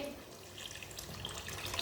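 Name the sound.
water being poured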